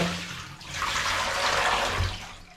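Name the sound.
emptying a basin of cold water after soaking wool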